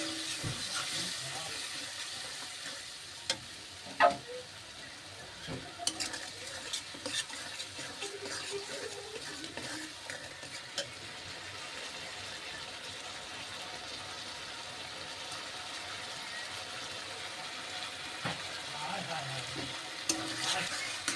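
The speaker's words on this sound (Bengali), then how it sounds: "ভালো করে কষিয়ে নেব।" Spice masala being stir-fried in a pan, a soft continuous sizzle with occasional scraping stirs and small clinks, close and steady throughout.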